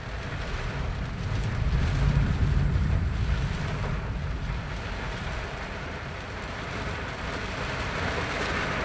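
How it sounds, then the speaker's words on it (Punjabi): Rainwater drained from a whole village flows past after heavy rain, a continuous loud rushing roar with wind buffeting the microphone and no talk. "ਸਾਰੇ ਪਿੰਡ ਦਾ ਪਾਣੀ ਇੱਧਰ ਨੂੰ ਕੱਢਿਆ ਆ ਤੇ ਇਹ ਪਾਣੀ ਪਾਣੀ ਚੱਲਦਾ ਨਾ"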